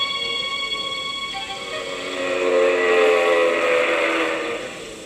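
A steam train whistle sounds, a sustained shrill tone that holds for several seconds and swells louder in the middle before easing off, heard alone.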